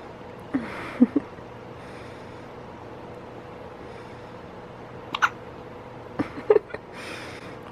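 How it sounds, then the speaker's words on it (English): Newborn baby hiccuping, small sharp hiccups in short clusters of two or three separated by quiet pauses, close and soft over a low room hum. "You still get the hiccups outside of the womb too."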